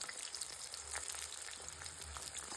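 Onion and tomato fry in oil in a pan, making a soft continuous crackling sizzle with a low hum underneath, fairly quiet and close, with no speech.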